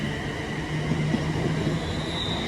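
A passenger train on the West Coast Main Line runs through a station in a steady, continuous rumble with a faint high squeal, holding at an even loudness throughout with no voices.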